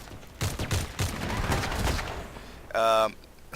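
An M110 rifle fires several sharp, loud shots in quick succession during video game action, followed by a brief ringing electronic tone near the end.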